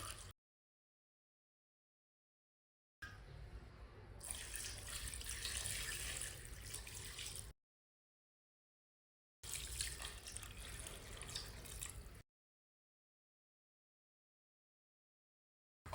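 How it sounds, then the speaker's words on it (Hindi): Water pours into a cooking pot holding two kilograms of washed goat mutton, in two separate bursts of steady, close splashing and gushing, with silence before, between and after. "3 गिलास पानी डाल लेंगे।"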